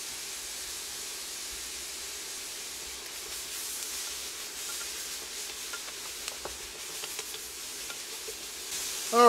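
Onions fry in a pan with a steady, soft sizzling hiss that runs throughout, with a few faint clicks near the end.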